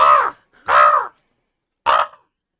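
A person's voice imitates a crow, giving three harsh caws: two close together, then a short pause and a clipped third.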